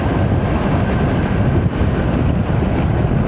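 Heavy wind buffets the microphone on a moving motorcycle along the Batangas Loop road, a loud, continuous broadband roar with constant rushing turbulence and no voices.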